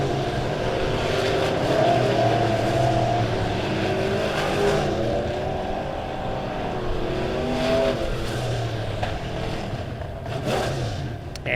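Midwest Modified race cars at Springfield Raceway roar around the track in a continuous, loud engine drone with shifting pitch as cars pass and rev, no talk over it.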